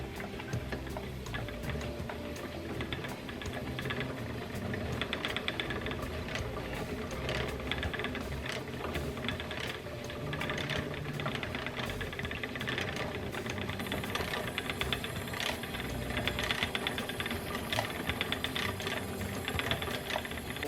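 A spinning wheel twisting raw Finn/Cormo fleece into textured singles yarn, giving a steady, close mechanical ticking and treadle clatter that runs continuously without talk.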